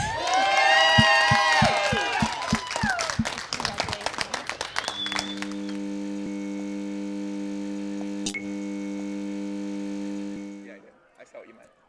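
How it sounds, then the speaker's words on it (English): A game-show studio audience cheers and applauds for champion Karen, starting with loud claps and whoops mixed with music, then the clapping fades as a sustained synth chord holds and ends. "Let's get a big cheer for Karen."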